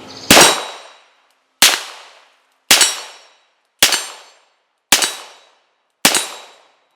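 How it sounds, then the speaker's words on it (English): Six loud, sharp shots from a 1960s Smith & Wesson revolver chambered in .38 Special ring out outdoors, evenly spaced over roughly a second apiece, each crack ringing briefly before decaying. "Now this is a 60s example, and it's in 38 special, so we'll throw a few rounds downrange."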